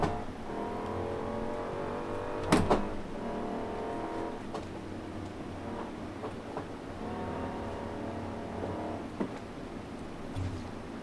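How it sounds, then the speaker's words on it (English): A supercharged Hellcat V8 in a 1969 Dodge Charger Daytona in Forza Horizon 4 drones steadily at cruising speed, with a sustained engine tone and a few brief clicks and knocks. "This is supercharged. Because it's the Hellcat motor."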